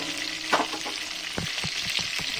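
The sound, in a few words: potatoes frying lightly in a pan for biryani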